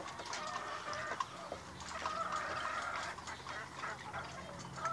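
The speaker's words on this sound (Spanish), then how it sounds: "Ya están los gallos acomodados." Roosters and hens clucking and calling over a steady farmyard din, several birds close by with overlapping, continuous chatter.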